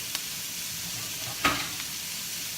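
Onions, celery, and green and red peppers fry in a pot with a steady, soft sizzle, broken by one brief scrape as the vegetables are stirred.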